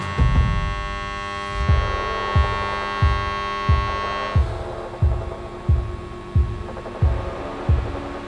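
DC TIG welding arc with QuietPulse pulsed current, a steady electrical hum carrying a regular low throbbing pulse about every two-thirds of a second, close and alone with no voices.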